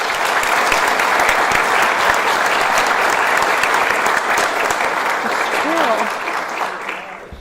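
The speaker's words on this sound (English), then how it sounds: "If you could join me in a round of applause for them." Loud, sustained audience applause for student officers at a National Honor Society induction ceremony, dense clapping filling the room before tapering off near the end, where a voice briefly rises over it.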